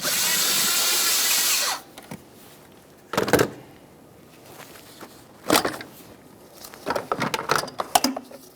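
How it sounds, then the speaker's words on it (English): A power tool with an 8mm socket whirs loudly for almost two seconds to loosen the air inlet tube clamp on a 2012-2018 Nissan Maxima 3.5L V6. Scattered clanks and taps of parts and tools being handled follow, with no speech. "We're going to loosen that clamp. I'm using an 8mm."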